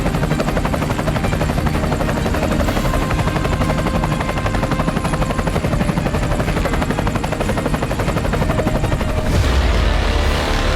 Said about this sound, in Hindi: इनमें 100 मिलिट्री हेलीकॉप्टर्स को दिखाया गया